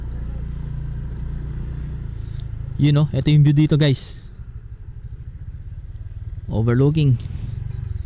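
Motorcycle climbing the Capaz–Botolan mountain road near San Jose, Tarlac, its low engine drone running steadily underneath as people talk over it nearby.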